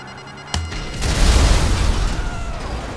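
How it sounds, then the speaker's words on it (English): Missile explosions in GTA 5 Online: a sudden loud boom, followed by a long rumbling roar and crackle as secondary blasts and burning debris continue, close and heavy. "Secondary explosions there."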